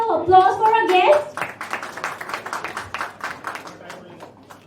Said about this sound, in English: can we have a big round of applause for our guest?